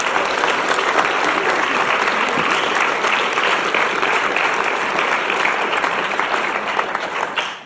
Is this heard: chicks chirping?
no